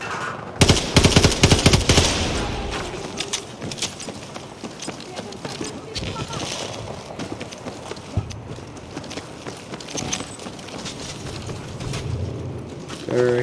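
Rapid gunfire in Battlefield 2042 crackles in loud automatic bursts at the start, then continues as scattered shots and clattering amid busy battle noise.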